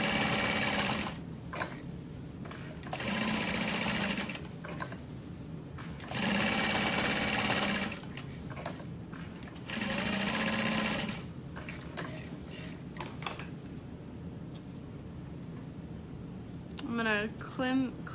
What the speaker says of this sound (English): I'm gonna sew around all the edges.